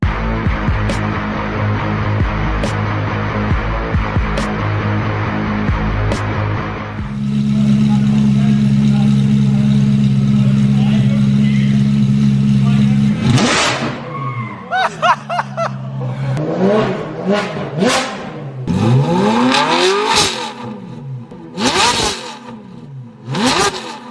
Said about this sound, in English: they have been dying to hear the F430 start. So I had to give them a startup and a few revs